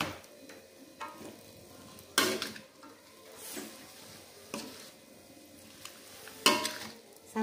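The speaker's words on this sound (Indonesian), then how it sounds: "sawi juga aduk lagi" Carrots, cabbage and mustard greens being stir-fried for fried rice noodles, a soft steady sizzle with repeated scrapes and clanks of a spatula against the pan.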